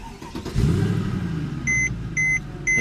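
A 2011 Mercedes-Benz C63 AMG with a 6.2-liter V8 fires up by push button, a close, heavy rumble that settles into a steady idle while repeated electronic chimes beep over it.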